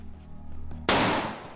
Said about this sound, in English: AK-50 V3 test fire.